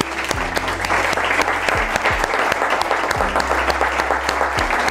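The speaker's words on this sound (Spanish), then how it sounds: "un fuerte aplauso para ellos" A studio audience claps loudly and steadily for two guests, a dense, sustained burst of applause that fills the whole stretch with no voices on top.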